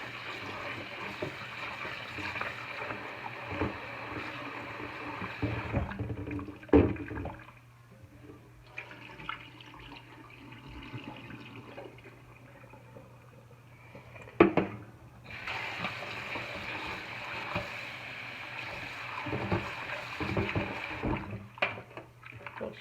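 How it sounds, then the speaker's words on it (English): Defrosted, deveined shrimp rinsed under a running kitchen tap, a steady stream of water with pauses, faint clatter and splashing, no talking. "We're gonna rinse them."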